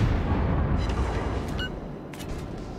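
Naval gunfire from the Omaha, a Tier V cruiser in World of Warships, as dull booming salvos under a steady rumble of sea and engine noise, with faint whistling shells in flight.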